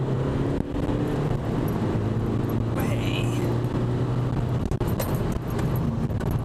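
A remapped Skoda Octavia vRS TDI diesel pulls hard to overtake, its steady low engine drone and road rumble loud and close from inside the cabin, with faint voice murmur underneath.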